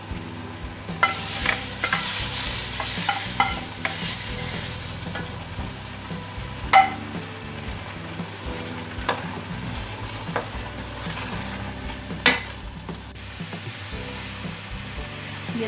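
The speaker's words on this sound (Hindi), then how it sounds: "इसे गाजरों में शामिल करके अच्छी तरह भुनाई करनी है।" Grated carrots with cardamom sizzle steadily in a pan for gajar halwa while a spoon scrapes and stirs, with a few sharp clinks against the pot.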